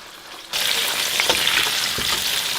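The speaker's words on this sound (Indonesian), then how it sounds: "tomat cherry namanya ya, akan aku goreng juga ya." Cherry tomatoes frying in hot, darkened oil for sambal sizzle loudly after a sudden start, a dense crackling hiss broken by a few sharper pops and spatters.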